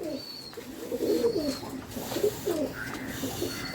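Pigeons coo in a series of soft, low, rolling calls close by, with faint higher chirps between them.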